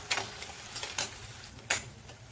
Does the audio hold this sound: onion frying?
yes